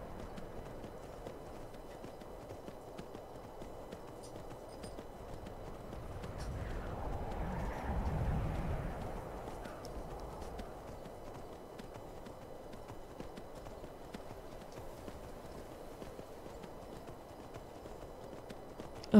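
Rhythmic hoofbeats of a galloping horse in the video game Skyrim Special Edition, faint at first, swelling closer midway, then fading back to a quiet background.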